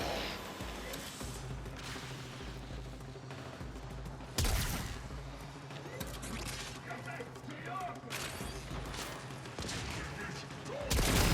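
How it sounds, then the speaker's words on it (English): Rapid gunfire from a shooter video game hammers at a blast shield in loud, repeated bursts, with several sharp volleys punctuating a steady background of action noise. "Oh, I just shoot the blast shield."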